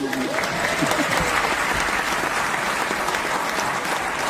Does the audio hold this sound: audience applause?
yes